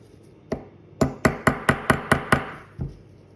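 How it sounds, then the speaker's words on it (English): A small hammer riveting a new barrel arbor bushing into place during a Cyma 586K watch repair: one light tap, then a quick run of about seven crisp, close metallic taps and a final single tap. "We're going to put that in, rivet that in place."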